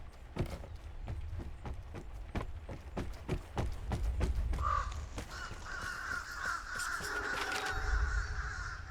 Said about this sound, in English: There's birds like in Hunt Showdown.